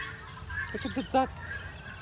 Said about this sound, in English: Look at the duck.